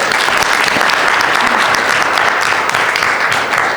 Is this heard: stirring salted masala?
no